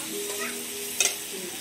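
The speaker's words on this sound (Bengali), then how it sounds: "টমেটোটাও তেলের মধ্যে ভালো করে নেড়ে চেড়ে নিচ্ছি।" Chopped tomato is stirred in hot oil in a pan, giving a soft, close sizzle with one sharp spoon scrape partway through.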